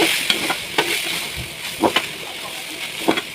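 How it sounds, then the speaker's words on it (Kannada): White rice being mixed into frying puliyogare paste, a constant loud hiss with repeated scraping strokes of a spoon through the pan. "ನಂತರ ವೈಟ್ ರೈಸ್ ನಿಮಗೆ ಎಷ್ಟು ಬೇಕು ಅಷ್ಟು ಹಾಕಿಕೊಂಡು ಕಲಿಸಿ"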